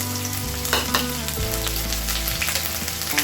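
Whole spices, dried red chilli, bay leaf and chopped ginger fry in hot oil for a tempering, crackling and sizzling loudly up close with stirring scrapes throughout.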